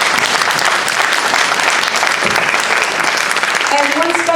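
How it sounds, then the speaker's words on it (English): Audience at a sheriff's alliance meeting applauding, a dense steady clapping from a roomful of people that fills the whole stretch, with a voice starting to speak near the end. "Please give these people a round of applause."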